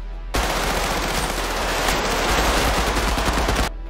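Rapid, sustained automatic gunfire, a dense burst of shots lasting a few seconds before cutting off abruptly.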